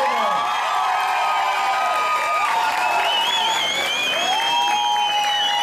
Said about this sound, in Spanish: Toda la gente grita.